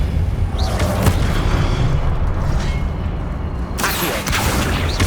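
A spell impact in the video game Hogwarts Legacy lands as loud, deep booming bursts, one near the start and another around the four-second mark, with rumbling sustained between them and no voices.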